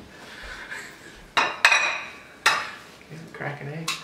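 An egg is cracked in a kitchen while making eggrolls, with a couple of sharp taps and clinks against a bowl, close and brief, followed by soft rustling and a faint voice.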